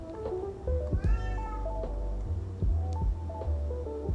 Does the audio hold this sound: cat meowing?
yes